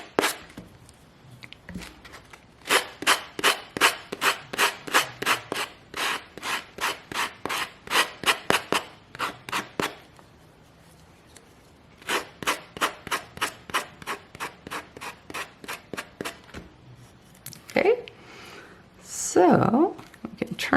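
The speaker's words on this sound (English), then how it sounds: "the wood side definitely works better with the sanding block" Rhythmic back-and-forth rasping of a sanding block on wood in two long bursts, close and brisk, followed by a short pause and brief rustling.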